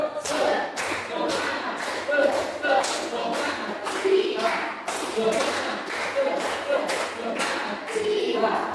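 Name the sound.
group clapping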